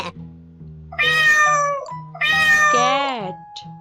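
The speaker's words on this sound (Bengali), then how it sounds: "ক্যাট ক্যাট মানে বিড়াল।" A cat meows twice, close and clear, the second meow longer with a falling pitch, over a soft steady musical tone.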